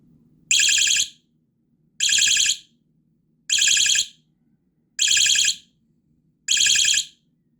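A piercing electronic alarm from a motion-sensing bike lock blares in five evenly spaced bursts, each about half a second long, separated by short silences.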